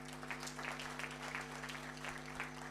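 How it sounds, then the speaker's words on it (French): A small audience claps at a talk about Bitcoin and getting rich, light, scattered hand claps over a steady electrical hum. "Applaudissez pour cette activité."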